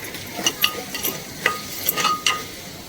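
A spoon stirs salted egg khichdi in a pan, making a faint sizzle with several sharp scrapes and clinks against the metal.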